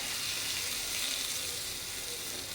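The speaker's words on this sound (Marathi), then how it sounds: "पाव चमचाभर लाल तिखट टाकणार आहोत" Red chili powder dropped into hot oil for a tempering while making misal pav, a steady, even sizzle with no break, fairly soft and close.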